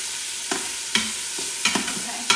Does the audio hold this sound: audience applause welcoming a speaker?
no